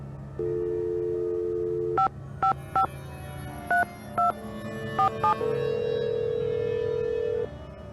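Touch-tone keypad dialing in a Nancy Drew video game: about nine short, evenly clipped beeps in an irregular rhythm, set between a steady dial tone before and a ringing tone after, loud and alone with no talk.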